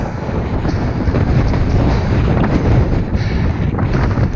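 Wind buffeting a microphone during a winter bike ride, a loud, steady, rough roar that continues throughout without talk.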